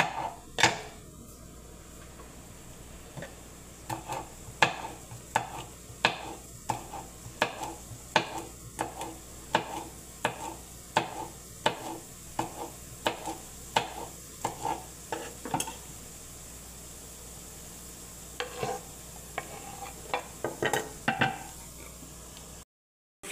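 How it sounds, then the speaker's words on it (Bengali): Yardlong beans, potato and onion fry in a pan, a steady sizzle broken by repeated sharp scrapes and taps of a spatula stirring, close and without talk. "বরবটি আলু আর পেঁয়াজ দিয়ে ভাজা বানাবো"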